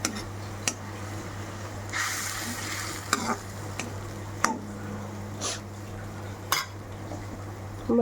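Masala of ginger, green chillies, garlic, chilli powder and salt with curry leaves sizzling and frying in a pan, a steady low crackle with a few clinks and stirring scrapes of a utensil against the pan, no talking.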